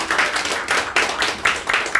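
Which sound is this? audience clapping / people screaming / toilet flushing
audience clapping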